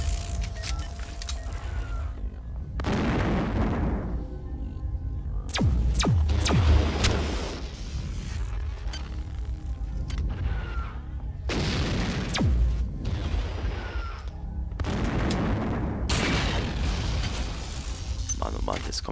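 Rocket turrets fire in the game System Shock 2: heavy, booming blasts land in repeated bursts every few seconds, with mechanical clatter between them and a voice commenting underneath.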